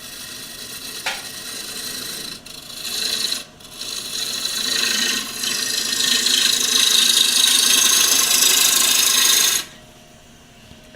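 A woodturning tool cuts into spinning wood on a lathe near the tenon mark, making a continuous close scraping rasp that breaks off briefly twice and then stops abruptly near the end.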